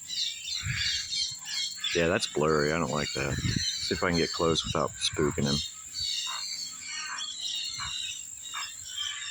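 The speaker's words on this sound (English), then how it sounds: "You can hear the toucans going on." Croaking, squawky calls from toucans sound in the background while someone talks nearby.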